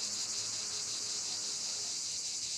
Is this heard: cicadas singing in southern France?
yes